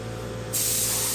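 Quiet background hum, then a spray gun abruptly releases a steady, loud hiss of metal flake paint being sprayed onto a bike, continuing to the end.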